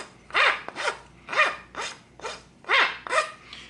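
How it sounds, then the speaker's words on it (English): A rasp file works the edges of a wooden smoking pipe in about eight rhythmic, scraping strokes, close and fairly loud with brief pauses between each pass. "All I'm doing is getting rid of the harsh edges right here with a rasp file."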